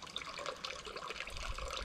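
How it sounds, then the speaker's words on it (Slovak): Small mountain spring at Hľadelské sedlo in the Low Tatras, trickling in a faint, steady, close babble with no voices. "Našiel som ďalší pramienok"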